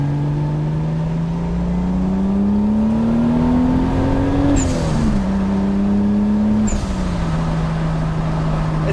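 A Toyota Supra with a turbocharged 7M engine pulls hard under boost, its loud, close engine note climbing steadily, dipping briefly at a shift, then rising again.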